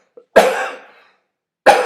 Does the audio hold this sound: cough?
yes